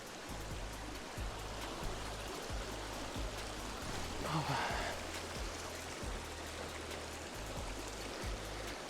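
A clear stream in the Bavarian Forest rushes in a constant broadband wash of flowing water, steady and fairly loud, with a low rhythmic hum and faint bits of voices underneath.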